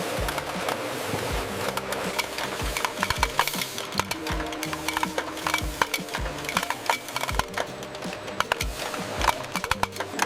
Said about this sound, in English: Shiny metal caps cascade down the feeder, ready to seal in the flavor.